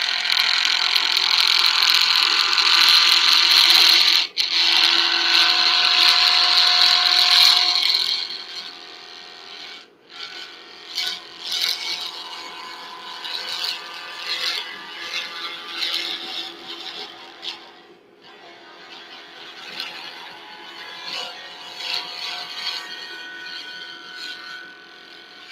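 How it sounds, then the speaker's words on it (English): A small scraper gouge cuts a pen blank spinning on a wood lathe, giving a steady, loud whirring scrape that runs for several seconds and then becomes lighter and more broken as cutting continues in short passes. "I get to use this smaller scraper gouge."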